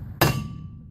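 A single sharp metallic hammer blow strikes an old ax head during a restoration in a shed, one loud close clang that rings briefly and fades.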